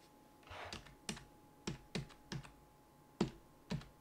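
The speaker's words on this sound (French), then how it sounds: "J'ai tellement tapé mon clavier" Hard, separate strikes on a Razer Chroma RGB computer keyboard, about eight loud, close key hits spaced irregularly, with no talking.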